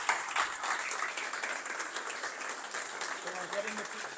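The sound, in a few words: audience applause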